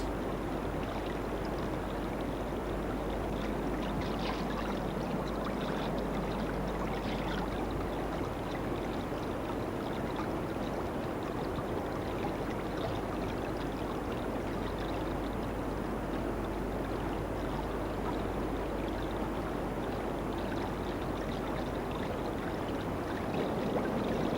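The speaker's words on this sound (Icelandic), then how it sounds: "Áin er býsna köld og vaðið er langt." A long, cold glacial river in Skaftafell, Iceland rushes and splashes steadily as people wade across it, a constant close churning of water with no voices.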